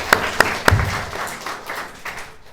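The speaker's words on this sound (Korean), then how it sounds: "박수 드립니다." A church congregation applauds during a service, opening with a few sharp, separate claps before a brief, busier patter of clapping fades away.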